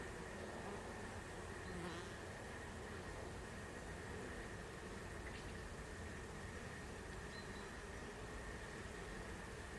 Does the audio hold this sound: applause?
no